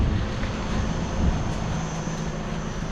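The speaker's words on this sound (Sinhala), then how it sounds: "අරකෝ කා හයිලැක්ස් එක ඕෆ් කරපන් ජොට්ටා" A Toyota Hilux engine runs at a steady idle, giving a loud, continuous low droning hum with no breaks and no voices.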